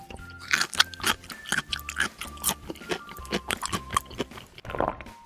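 Crunchy buttered toast is bitten and chewed up close in a quick series of sharp, dry crunches with short pauses, over a faint tonal background.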